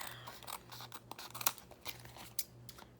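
Scissors cutting paper, faint snips and crisp rustles scattered unevenly over a low steady hum, quiet and close.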